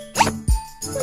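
A small child's hiccups sound up close as a few short, abrupt gulping catches, each with a soft low thump and a quick rising squeak, separated by brief pauses and with no talking.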